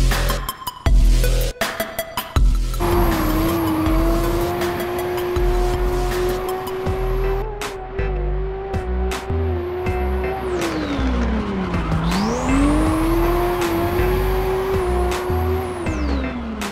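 Engine and tire noise from a Chevrolet Corsa drifting back-entry style in the racing game Getaway Driver: a loud, steady revving engine drone that dips and climbs again mid-run, with tire squeal and sharp hits at the start.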